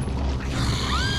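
A weapon being reloaded in the video game Resident Evil 4, a short mechanical clack and ratchet with a rising metallic whine at the end, brief and close.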